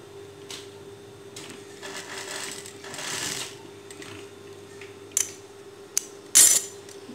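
A sewing machine stitches a little girl's dress in short, soft bursts over a steady hum, followed by a few sharp metallic clicks and taps near the end.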